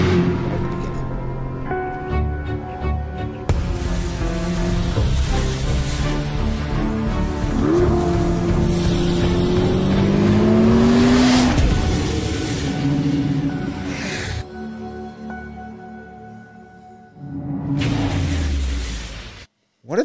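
A Chevrolet Corvette C8 ZR1 in a GM promo, engine revving and rising in pitch through fast pulls, loud and sustained with some music-like tones, ending abruptly.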